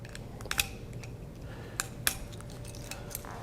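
A small wine-tool knife scores the foil around a wine bottle's neck, making faint scratchy clicks and a few sharp ticks in a quiet room, with no one talking.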